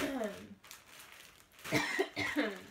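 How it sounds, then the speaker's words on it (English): A person coughs a few times, with short bursts close to the mic, with quiet pauses between. "I'm coughing"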